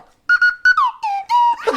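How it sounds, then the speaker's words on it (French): A person whistles a short, bright melodic phrase of several separate notes with sliding pitch, close and loud, with a brief breath at the end. "il maîtrise son sifflet, c'est une dinguerie"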